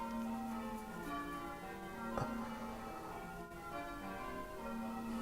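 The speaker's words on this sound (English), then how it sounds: "Yeah, church bells are mad." Church bell samples from an Ableton Live set, produced at 165 BPM, ring out as sustained, layered metallic tones that swell and fade, with one sharp struck hit near the middle, quiet and clean.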